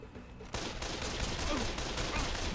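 Rapid gunfire bursts out in the zombie game Dead Island, a dense continuous volley starting abruptly after a brief quieter moment, loud and close.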